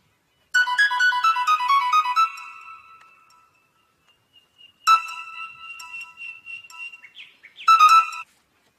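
A mobile phone ringtone with chirpy, bird-like electronic tones rings before the call is answered, coming in three separate bursts with quiet gaps between them and no talking.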